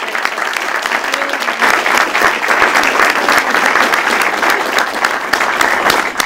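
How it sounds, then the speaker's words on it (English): An audience at a Gabelli School of Business presentation gives a big round of applause for the student investment fund managers, with dense, loud clapping that swells after a brief start and keeps up steadily. "join me in giving our student investment fund managers another big round of applause"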